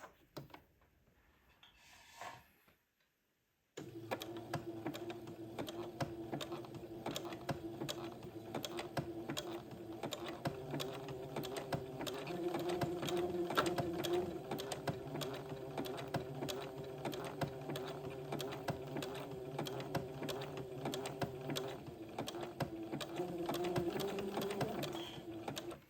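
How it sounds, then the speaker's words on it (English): A sewing machine runs a steady zigzag stitch while attaching trim to a doll dress, with a continuous close mechanical hum and patter holding for over twenty seconds after a short quiet start. "now we're ready to zigzag this into place."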